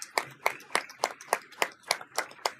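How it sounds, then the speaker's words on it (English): Clapping honors a National Blue Ribbon school at a school governing board meeting, about ten sharp, evenly spaced claps in a steady rhythm, close by and alone. "So let's give Atkinson a big round of applause."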